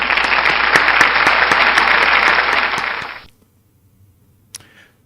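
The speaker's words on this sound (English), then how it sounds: "So let's give them a round of applause." An audience at a meeting gives a round of applause, a dense burst of clapping for about three seconds that fades out into near silence, with one faint click afterwards.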